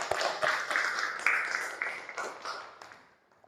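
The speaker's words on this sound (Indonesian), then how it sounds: "beri aplaus untuk kita semua" A classroom group applauds together, a few seconds of scattered clapping that starts strong and gradually fades out.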